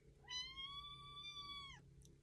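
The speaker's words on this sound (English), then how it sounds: "I have kitties, if you can't tell." One clear, drawn-out cat meow, fairly close, rising then ending abruptly over quiet room noise.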